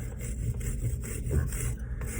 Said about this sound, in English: I'm going to take a rasp